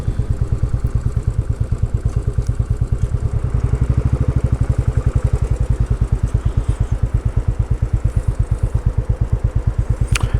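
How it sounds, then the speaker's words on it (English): A Royal Enfield motorcycle chugs steadily along on a ride toward a castle near Paris, its single-cylinder thump pulsing in an even, loud rhythm close up with no talking. "with me with the Royal Enfield"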